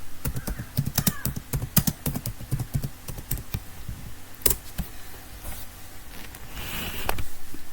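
Rapid, uneven clatter of computer keyboard keys as code is typed, close and fairly loud, with brief pauses between bursts.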